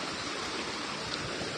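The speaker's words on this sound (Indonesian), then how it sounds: "Air mengalir sangat deras." Fast water rushes through a leaking dam channel, making a steady, dense roar with no break over the short stretch.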